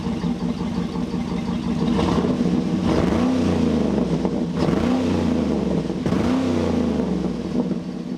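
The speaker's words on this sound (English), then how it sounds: "She sounds freaking great considering she's down a cylinder." A GM Cadillac Escalade SUV engine, down one cylinder, idles close by, then revs three times in rising and falling swells that settle back to a steady rumble.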